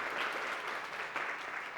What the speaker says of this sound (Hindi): इन दोनों के लिए जोरदार तालियां दें